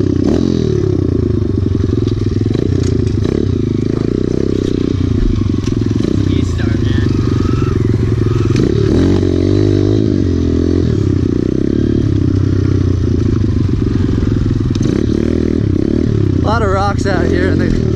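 A pit bike engine revs up and bogs down when the clutch is dumped. Its changing pitch drones loudly and continuously beneath people talking nearby.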